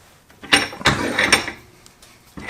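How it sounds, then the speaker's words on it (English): A woodworking vise on a trestle-horse build clamps a workpiece with a few close, sharp mechanical clunks and rattling scrapes, then falls quiet before one more knock. "I'll put this in a vise."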